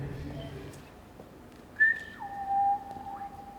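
A person whistles in the manner of the whistled shepherd language of the Ossau Valley, giving two clear sustained tones, the first higher and the second sliding lower, fairly close in a quiet space.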